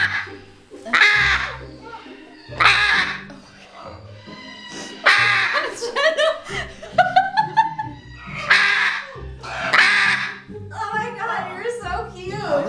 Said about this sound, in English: George, you better hear those birds